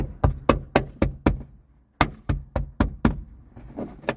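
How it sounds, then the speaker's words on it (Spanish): Metal staples tapped firmly into place while installing a Pioneer 6.5-inch speaker set, heard as about a dozen sharp, close knocks in two rhythmic bursts separated by a brief pause. "le damos unos golpecitos algo fuerte"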